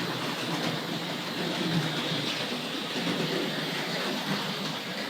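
A Tri-ang RFX suburban electric model train runs steadily on its track, giving a continuous, moderately loud rolling rumble with faint rail clatter throughout and no talking.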